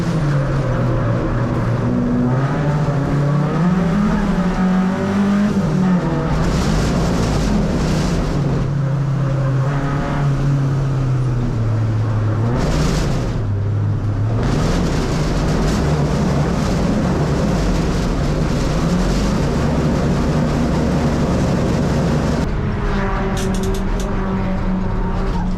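Race car engines drone loudly and continuously at the start of an automobile race, pitch rising and falling as they rev and shift, with a short dip near the middle and a steady roar throughout.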